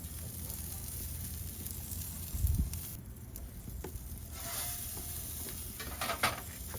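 A pork chop and salmon sizzle on a very hot gas or charcoal grill, a steady soft crackle and hiss with faint scraping and a low thump, no talking.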